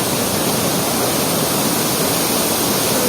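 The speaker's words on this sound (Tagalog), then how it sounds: "lakas ng agos" Strong rushing water at Antong Falls, a loud dense roar of current that stays constant throughout with no voices.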